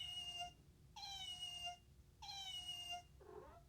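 A cat meows three times in long, clear, separate cries, followed by a shorter, rougher vocal sound, close by and quiet against faint background hiss.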